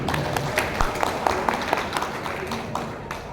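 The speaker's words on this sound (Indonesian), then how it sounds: "Monggo tepuk tangan untuk UII." Audience applause at an academic forum and book discussion in Yogyakarta, a moderate, fairly distant patter of many hands with a few sharper claps standing out, under a low murmur of voices.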